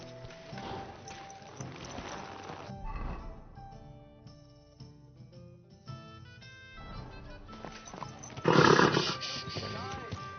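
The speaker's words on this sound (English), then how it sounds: "Easy, good horse." A horse neighs loudly near the end of a stretch from the video game Kingdom Come, a sharp whinny rising above background music and ambient game sounds.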